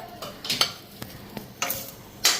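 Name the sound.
fritters (bora) frying in oil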